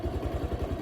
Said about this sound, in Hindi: फिर से नीचे की तरफ फर्स्ट गियर लगाते हैं, और धीरे धीरे क्लच को छोड़ते हुए